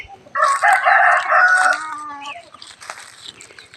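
A rooster crows loudly nearby in a garden behind a temple in Chae Hom, Lampang, Thailand, one long drawn-out call, followed by softer clucking and rustling.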